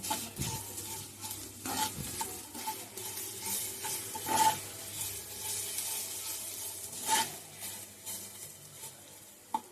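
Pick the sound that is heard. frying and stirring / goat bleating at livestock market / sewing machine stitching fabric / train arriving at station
frying and stirring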